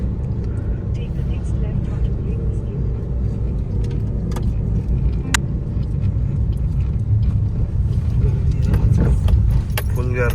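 A car rolls into a crowded parking lot at a tourist spot, a steady low engine rumble close by with scattered metallic jingles and clicks, while people talk over it.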